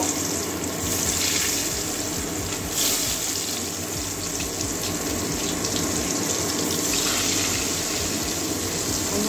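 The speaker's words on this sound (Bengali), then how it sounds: "এবারে পটলগুলো সব ভেজে নেব।" Pointed gourd pieces fry in hot oil with turmeric, making a loud, continuous, hissing sizzle that holds steady with little variation throughout.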